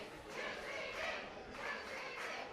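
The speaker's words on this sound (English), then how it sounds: "UCD's crowd kicking into gear here" UCD supporters in the stands at an American football game cheer and shout in swelling waves, a faint, distant crowd roar with talk mixed in.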